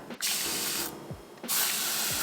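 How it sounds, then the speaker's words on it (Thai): A fine-mist plastic spray bottle gives two sharp hissing bursts of spray, each lasting under a second with a short gap between, close to the listener and with no voices. "เป็นกระบอกฉีดสเปรย์จะได้ สเปรย์ที่ละเอียดมากทุกคน"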